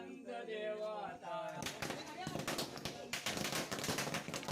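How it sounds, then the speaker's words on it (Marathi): Firecrackers burst at a village Tulsi Vivah wedding: after a few seconds of chanting voices, a dense run of sharp crackling pops starts abruptly and keeps going loudly, close by. "तिकडे फटाके फुटले आहेत"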